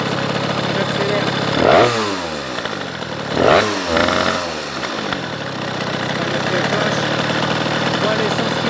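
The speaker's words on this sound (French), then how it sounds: "On voit l'essence qui monte quand j'accélère." A Rieju MRT 50 moped with a 30mm carburettor idles with a raspy buzz, broken by two short, sharp revving bursts close by.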